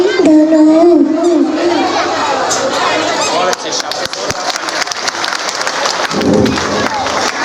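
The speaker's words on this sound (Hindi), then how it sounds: "जोरदार तालियां इस बच्चे के लिए भी।" Crowd applause for a young child performer at a school annual function, loud clapping and cheering from the audience mixed with children's chatter and voices, building and continuing throughout.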